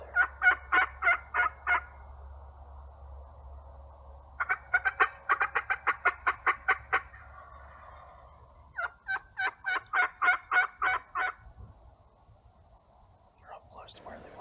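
Repeated bursts of rapid yelping calls from wild turkey hens in a flock during a Pennsylvania spring hunt, three clear series separated by pauses, with soft whispered voices between them.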